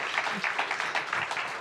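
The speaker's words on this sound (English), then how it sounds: "Round of applause for her." A small studio audience gives producer Amy a brief round of applause on a podcast set, a short burst of scattered claps lasting under two seconds.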